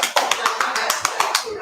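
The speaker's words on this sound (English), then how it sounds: "They clap so fast, like they're shooting machine gun." Very rapid hand clapping, like machine-gun fire, in quick evenly spaced bursts, close and clear, with a voice talking over it.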